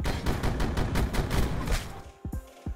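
Loud video game shotgun blasts fire in quick succession for about two seconds, close and heavy, then taper off into a few quieter sounds.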